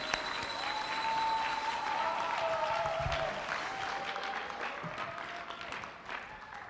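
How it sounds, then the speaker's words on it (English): A crowd at the Aggie Voice 2021 singing contest applauds after a song performance, a sustained wash of clapping with cheers and whoops rising over it, moderately distant and holding steady before tapering slightly. "Give a big round of applause for Harris."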